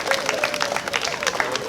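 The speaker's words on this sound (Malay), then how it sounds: "berikan tepukan gemuruh" Spectators at a Malaysian archery tournament applaud the archers with a brief burst of brisk, fairly close crowd clapping.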